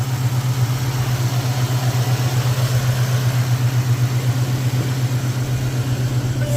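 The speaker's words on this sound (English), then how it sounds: "Really quiet engine. You hear no ticking, knocking." An Infiniti M45 engine idles quietly and smoothly with a steady, close, low hum and no ticking or knocking, running alone without any voices.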